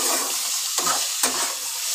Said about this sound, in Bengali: খানিকক্ষণ ভাজা ভাজা করে নেব।